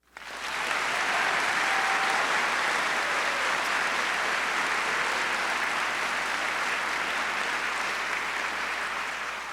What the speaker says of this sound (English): join me in a round of applause for both Katie and the entire committee